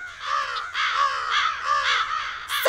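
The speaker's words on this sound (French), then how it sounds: "Il y a des corbeaux partout." Crows caw repeatedly across a field in a French Thomas & Friends episode, a steady run of harsh, fairly loud calls that overlap one another, with no voices.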